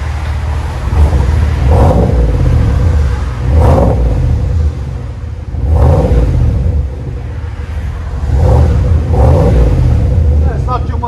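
A GMC Sierra Denali with a 6.2L V8 revs repeatedly through an aftermarket exhaust, each loud throaty burst swelling and falling back to a deep rumbling idle, about five pulls in a row.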